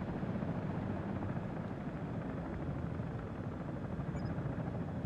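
A helicopter in the Comanche video game drones in a steady, dense rotor and engine roar that stays loud and unchanging throughout, with no talking.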